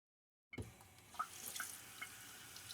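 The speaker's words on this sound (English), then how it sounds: "I really want to wash that knife" Running water from a kitchen tap while a knife is washed at the sink, a steady soft splashing that starts abruptly and continues with small clinks and drips, fairly quiet and close.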